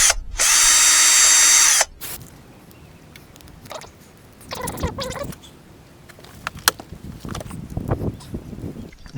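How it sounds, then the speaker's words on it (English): A power drill whines loudly in one steady burst for about a second and a half as it backs out tight screws, followed by softer clunks, rattles and handling noises close by. "these screws are noticeably tighter coming out than the other ones"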